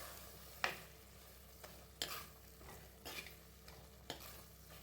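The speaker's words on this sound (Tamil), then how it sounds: "கத்திரிக்காய் சேர்த்தப்ப நல்லா பெரட்டி கொடுங்க" A spoon scrapes through chopped brinjal frying in a pan for Tamil dried fish curry (karuvattu kulambu), with about five separate stirring strokes over a faint sizzle, close and quiet, and no voices.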